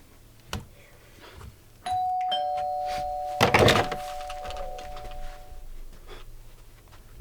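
A doorbell rings in a film scene, a sustained two-tone chime standing out clearly over quiet room ambience, preceded by a soft knock and followed by a brief burst of movement noise.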